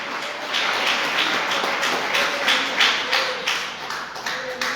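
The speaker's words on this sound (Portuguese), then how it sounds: "Palmas para Jesus, bem alegre." A church congregation keeps clapping, mostly in a loose, fairly even rhythm, with many hands at moderate distance and a faint tone ringing underneath.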